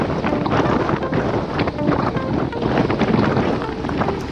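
Wind rushes over the microphone during a hard group bicycle ride on a climb up Capitol Hill Drive, a loud, steady buffeting roar without voices.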